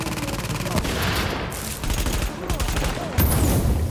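Dense gunfire from the video game The Division, with rapid automatic bursts and overlapping shots crackling loudly and continuously through the scene, close and sustained, with a brief louder flare near the end.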